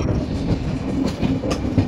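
A train rolls into Madurai station with a steady rumbling roar and rhythmic clickety-clack of wheels over rail joints, heard from on board, continuous and moderately loud with no voices.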